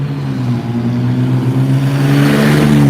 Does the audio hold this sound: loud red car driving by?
yes